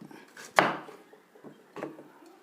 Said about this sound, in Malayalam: പയറും ക്യാബേജും വെട്ടിയതുപോലെ സവാള കട്ട് ചെയ്തെടുക്കാം